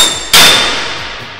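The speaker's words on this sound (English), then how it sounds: "You simply move the pin from the inside to the outside hole and strike it with a hammer" Hammer striking the steel load release pin on a concrete deck shoring post: a single sharp, loud metallic clang that rings on and slowly fades.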